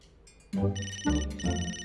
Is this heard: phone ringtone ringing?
yes